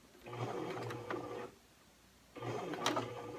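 A sewing machine runs a straight running stitch close to the edge of a tote bag, whirring in two steady bursts with a short pause between them.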